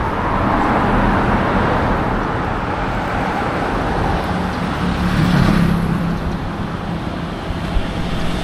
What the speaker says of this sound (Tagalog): Ang daming mga dumadaan na sasakyan guys, kasi nga Friendship Highway to.